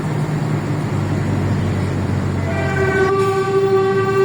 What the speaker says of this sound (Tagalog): So napatigil tayo dala ng may tren na dumadaan.